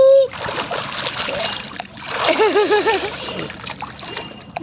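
Bathers take a dip in the Ganges river, with water splashing and sloshing close by as people chatter and call out over it.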